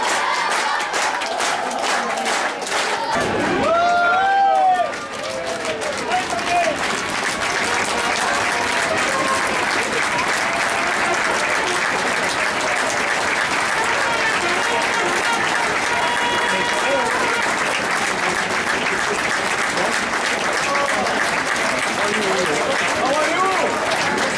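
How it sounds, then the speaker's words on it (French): Sustained applause from a crowd at a football club gathering, dense continuous clapping that carries on throughout after a short spoken line. "On peut les applaudir."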